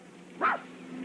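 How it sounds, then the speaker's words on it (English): A single short dog bark or yip, fairly distant and brief, rising out of a quiet background hum in a 1980 TV movie scene. "That your dog?"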